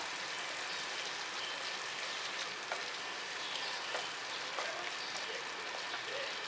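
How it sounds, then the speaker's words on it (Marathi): Masala cooking in a pan over a low flame, giving a soft, steady hiss and sizzle with a few tiny pops. It is fairly faint and there is no talking. "आपण मंद आचेवरती मसाला शिजवून घेतलेला आहे"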